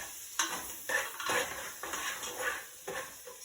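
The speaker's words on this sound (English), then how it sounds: "Now we just want to saute our onions a little bit, just so that they start caramelizing a little bit" Onions sauté in a pot, soft sizzling with repeated stirring scrapes and light clinks of a utensil against the pot, close and fairly quiet, with no talking.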